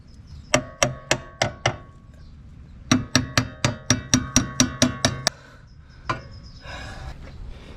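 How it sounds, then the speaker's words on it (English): Hammer blows ring out against brake parts during a brake upgrade on a Honda Civic DX using Civic EX components: two quick runs of steady, sharp metallic strikes, close and loud, then a final single hit. "I might give a little bit of hammers in there"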